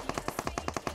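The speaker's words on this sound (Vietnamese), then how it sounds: "Mình nghĩ là cái tiếng súng này thì có lẽ là các bạn đang bắn nhau ở cái chỗ sau cái hàng rào." Rapid bursts of automatic gunfire from players fighting behind a fence in a PUBG Mobile desert-map match, about nine sharp evenly spaced shots in one second, fairly loud and with no talk over them.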